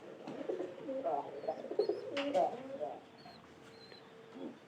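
Pigeons cooing nearby, a series of soft throaty coos and murmurs over the first three seconds, then quieter, with a few faint higher chirps.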